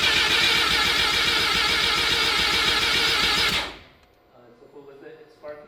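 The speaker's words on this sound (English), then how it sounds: "I'm gonna turn the motor over without the ignition on and without the fuel system on" The engine of a Ford FC that has sat for 15 years, cranked over with the ignition and fuel system off, gives a loud, steady, rapid chugging churn that stops abruptly, leaving faint clinks and rustles.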